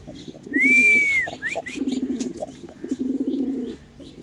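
Lahori pigeons at a large pigeon farm in Khilgaon, Dhaka, heard close up: a rising whistle-like call, then repeated rolling coos in several bursts, with no voices over them.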